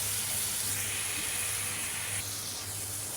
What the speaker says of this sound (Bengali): এখন কষিয়ে নেব।